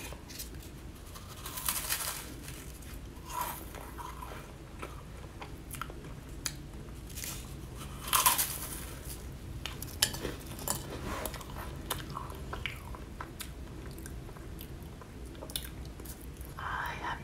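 Close, crisp crunching and biting bursts from vanilla meringue cookies repeat over a steady low background, with soft mouth noises between bites and an occasional louder crackle.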